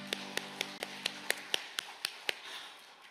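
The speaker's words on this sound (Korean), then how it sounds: "우리 하나님 앞에 영광의 박수 드립시다" A church congregation at a Wednesday worship service gives a short round of applause, heard as about ten evenly spaced, fairly faint claps over a steady hum.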